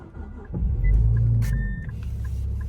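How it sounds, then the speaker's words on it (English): A 2021 Infiniti Q50 engine catches after a jump start and settles into a low, steady idle, close and loud, with a brief whine and small clicks over the rumble. "Sounds like a good idle."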